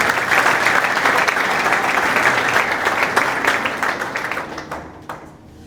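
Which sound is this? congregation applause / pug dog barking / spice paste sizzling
congregation applause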